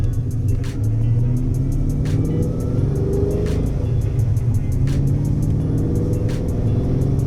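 A Foxbody Mustang with an 8.8 rear gear rumbles steadily from inside the car as it rolls slowly through the gears, a low continuous engine drone with faint periodic ticks over the top.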